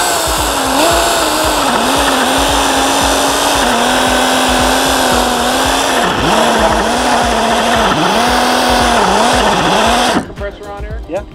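An air-powered two-man chainsaw runs with a loud, steady buzzing whine that dips and surges in pitch, held on a restricted air hose, then cuts off abruptly near the end.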